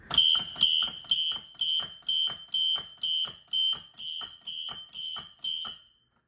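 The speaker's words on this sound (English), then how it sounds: "Probably the closest thing you're gonna get to hearing a fire alarm doing coding options" A fire alarm system sounds in a coded pattern during a system test: eleven evenly spaced loud electronic horn blasts with short gaps, then it stops.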